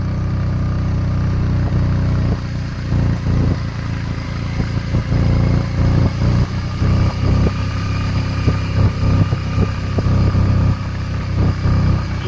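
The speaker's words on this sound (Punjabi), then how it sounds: "ਮੋਟਰਸਾਈਕਲ ਦੇਖ ਲਓ ਮਾਰਾ ਕਿਤਰਾ ਚੱਲ ਰਿਹਾ" Climbing a steep mountain road to the Baba Balak Nath shrine, a smoking motorcycle engine drones loudly and close by, its steady hum broken by uneven bursts and rattly surges as the rider works up the incline.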